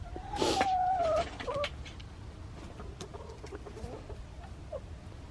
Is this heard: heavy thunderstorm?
no